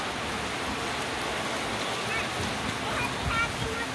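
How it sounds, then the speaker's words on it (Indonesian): Steady rain falls at Tanjung Bira, a continuous broadband hiss of water that stays even and fairly loud from start to finish, with no voices over it. "Ini kebetulan hujan di Tanjung Bira, sudah hujan."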